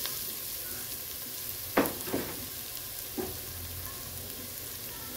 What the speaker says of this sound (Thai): ผัดจนหอมนะคะ